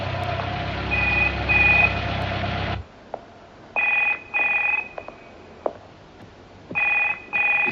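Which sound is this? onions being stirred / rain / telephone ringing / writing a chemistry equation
telephone ringing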